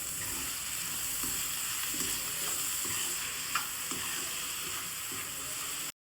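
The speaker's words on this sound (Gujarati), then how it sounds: "હવે આપણે લીલી ડુંગળી નાખી દઈશું અંદર, અને પણ સારી રીતે શેકાવા દઈશું." Green onions sizzle steadily in a hot pan while being stirred for a spiced bajra rotlo dish, a close continuous frying hiss with occasional soft spoon scrapes and small pops, no voices.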